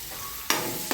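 Onions and green chillies fry in a pan over a soft steady sizzle, with two sharp scraping stirs of a spatula cutting in.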